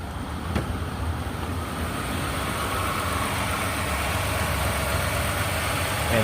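A car engine runs at a steady idle, a continuous low rumble held at an even level throughout with no talk over it.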